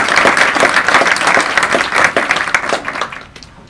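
An audience at a school district graduation ceremony applauds honors students, loud close-miked clapping with distinct individual claps that holds steady and then tapers off near the end.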